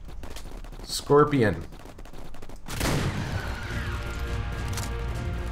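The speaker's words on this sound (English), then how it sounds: "Love my shotgun!" A shotgun fires in Ark: Survival Evolved, a sharp blast around the three-second mark followed by a rolling tail, with someone talking briefly just before.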